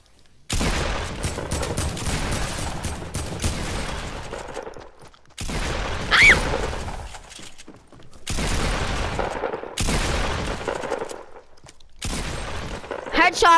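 Fortnite gunfire landing headshots: several separate loud bursts of shots, each a few seconds long with short quiet gaps between, with voices talking over them.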